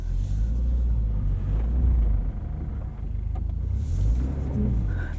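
A lifted safari-style 2022 Subaru BRZ climbs a hill, its engine a steady close rumble under load with slight rises in revs and faint crunching from the ground, and no talking.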